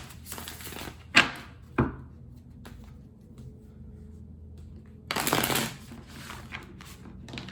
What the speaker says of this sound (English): I don't know why I want to shuffle for this,